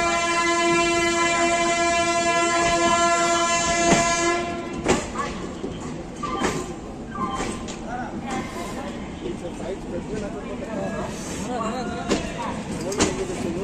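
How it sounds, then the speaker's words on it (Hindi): A train pulling out of Pandit Deen Dayal Upadhyaya Junction after a ten-minute halt: a sustained horn sounds for the first few seconds, then rolling rail rumble with clatter and knocks carries on steadily, heard from inside the train. "हमारी ट्रेन निकल गई है पंडित दीनदयाल उपाध्याय जंक्शन से"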